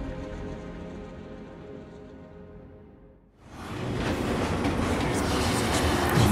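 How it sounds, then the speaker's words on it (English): Train riding in Final Fantasy VII Remake: quiet tonal music fades out, then a loud, steady broadband rumble and rattle of the moving train carriage takes over and continues to the end. "Like this train, I suppose."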